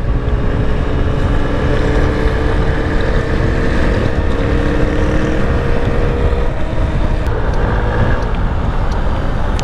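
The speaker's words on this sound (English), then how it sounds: "All day we've been riding these mopeds" Moped engine running steadily under way, a loud continuous drone mixed with heavy wind buffeting on the microphone for the whole stretch.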